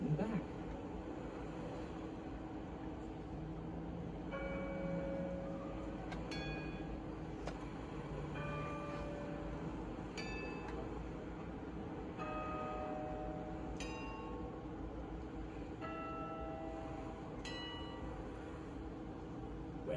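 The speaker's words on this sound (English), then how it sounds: "Big Ben is ringing." Big Ben's bell tones in the video game Peppa Pig World Adventures ring out repeatedly at spaced intervals over a steady low hum and background noise, with clear chimes recurring every couple of seconds.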